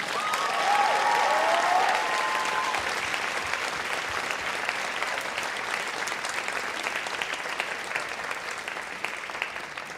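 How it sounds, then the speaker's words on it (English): An audience at a high school jazz band winter concert gives a big round of applause for the Apple Valley Jazz Band's teachers and students, a dense, steady roar of clapping that slowly tapers, with a brief whistle early on. "give a huge round of applause for the abnormal and amazing teachers and students of the Apple Valley Jazz Band"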